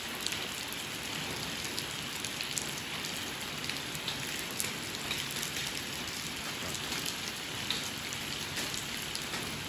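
Heavy rain pours steadily onto a flooded residential street outside a house in Thailand, a dense, constant hiss of close drops with no break across the whole stretch.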